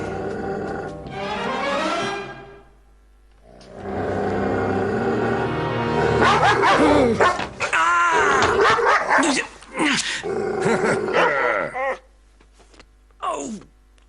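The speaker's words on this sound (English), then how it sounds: "Good doggy" A pet dog makes drawn-out whimpering and moaning sounds mixed with yips and short barks, loud and close, sometimes rising and falling in pitch, with brief pauses between bursts.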